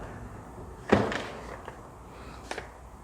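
Rear door of a 2019 Mercedes-Maybach S560 opening, a firm thunk of the latch and heavy door followed by a second softer click a moment later, close up in a quiet space.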